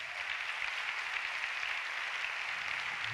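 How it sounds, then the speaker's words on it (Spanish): Congregation in a church clapping steadily together, a dense, even wash of applause at fairly close range with no pauses, continuing for a few seconds without any voices standing out. "Denle el aplauso al Señor"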